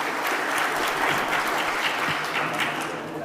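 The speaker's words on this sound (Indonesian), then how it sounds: "Boleh beri tepuk tangan untuk mereka bertiga." A seminar audience applauds steadily, dense clapping at a constant level throughout.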